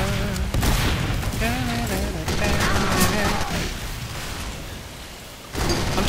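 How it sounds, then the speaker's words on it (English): Shotgun blasts and other combat fire in Team Fortress 2 crackle loudly and continuously, with a voice talking over the game noise before a short lull and another burst. "Shotgun."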